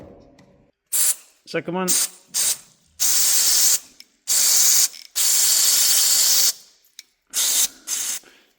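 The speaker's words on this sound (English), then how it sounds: "This is just carb cleaner that I'm using with my hose pipe adapted fitting on it." Carb cleaner hisses in repeated short and long bursts through a hose pipe adapter fitting with a poor seal, spraying on a broken Honda; someone speaks briefly between bursts.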